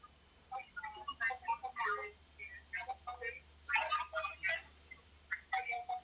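A phone set off by an accidental butt dial produces a string of short, bright tone blips and clicks, fairly faint, in irregular bursts over a low steady hum.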